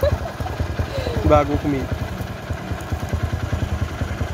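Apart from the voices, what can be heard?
motorcycle engine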